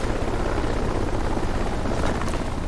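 Helicopter in the video game Dark Sector, a loud, dense rotor roar with steady thumping that fills the whole moment, with no voices.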